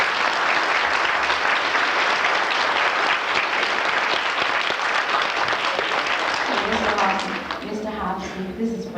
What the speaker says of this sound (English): we give Mr. Hobson another round of applause